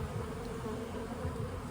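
Honeybees humming steadily around an open hive colony during a colony inspection, a dense close-up drone with no voices.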